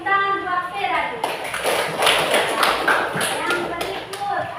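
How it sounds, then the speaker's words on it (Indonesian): Classroom applause for a student named Vera, a burst of scattered clapping from pupils with some taps and thumps, mixed under children's and a teacher's voices. "tepuk tangan buat Vera dulu"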